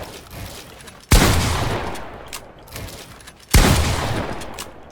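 Two sharp bursts of gunfire in Fortnite during a box fight, each a loud cracking shot followed by a decaying rattling tail, spaced about two and a half seconds apart over low background noise.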